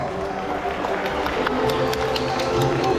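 An audience at a bird show applauds the flying macaws with dense, steady clapping and crowd noise that stays loud throughout, with some voices mixed in.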